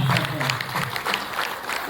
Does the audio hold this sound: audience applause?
yes